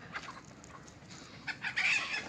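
Village chickens being herded in at dusk give a few soft clucks and one brief louder squawk toward the end, faint and somewhat distant.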